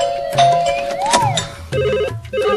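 A telephone rings with a repeating electronic ringtone pattern, loud and close, following a brief chiming tone.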